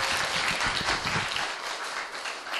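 A room full of campers claps steadily after a student's testimony at a Christian youth camp, a sustained, even round of applause with no pauses.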